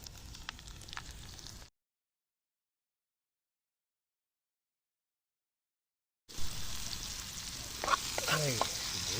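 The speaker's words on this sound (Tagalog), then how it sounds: "Tsaka tayo maghigisa ng corn beef" Corned beef sizzling as it is sautéed in a pan, with stirring scrapes and a rising crackle, close and clear, broken by a silent gap of several seconds in the middle.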